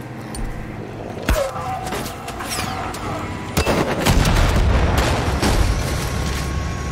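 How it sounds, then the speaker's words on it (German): Gunfire and a big explosion in the shooter game Far Cry 5, with sharp shots up front and a loud, rumbling blast that swells and keeps booming through the second half. "das Ding explodiert doch so."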